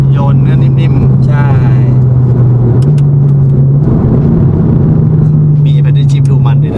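A BMW tuned by M-TEC Engineering cruises at light throttle with a loud, steady low engine drone, while people talk over it inside the cabin.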